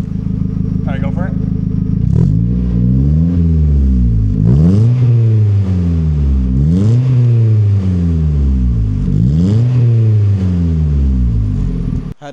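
A Mazda Miata's loud engine revs up and down repeatedly in long rising and falling sweeps, with a deep raspy tone from a straight-piped exhaust with muffler close by.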